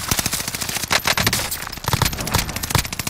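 Close, loud automatic gunfire in a video game battle, rapid bursts of shots in quick uneven volleys with short gaps between them.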